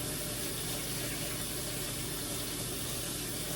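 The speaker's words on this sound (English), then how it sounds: "So I usually just rinse them under hot water and scrub them." Hot tap water runs steadily over potatoes being rinsed and scrubbed in a kitchen sink, a constant broadband splashing hiss with no pauses, close and fairly loud throughout.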